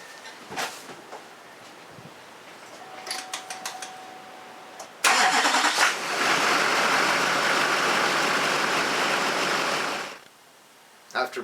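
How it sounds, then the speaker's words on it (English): A Duramax diesel truck cranks briefly and fires, then settles into a loud, steady close idle for several seconds before cutting off, with faint clicks and handling noises before the start. "And then start the truck up."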